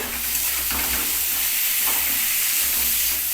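Salt and turmeric hit hot oil in a pan while cooking spiced moong dal, giving a steady, close, continuous sizzle with faint stirring and no talk.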